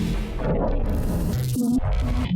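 An abstract synthesized bass sound, thick and wobbling, with shifting, gritty tones and a few short pitched blips over a constant dense low layer, loud and unbroken.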